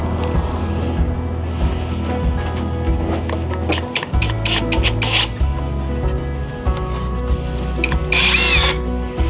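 Screws are power-driven through pallet wood planks into the legs of a garden planter, giving loud whirring bursts with creaks and rubbing in between, close up and without speech.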